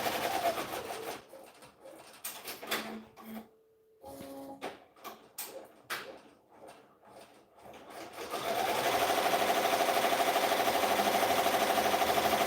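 A multi-needle embroidery machine stitches in bursts that stop and restart, then settles into a loud continuous rapid whir of needles for the final stretch.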